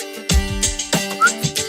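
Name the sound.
person whistling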